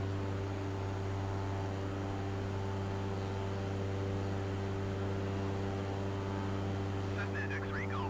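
A Cessna 208 single turboprop drones steadily in flight in Microsoft Flight Simulator, a constant loud engine and propeller hum with strong tonal layers, no change over the stretch.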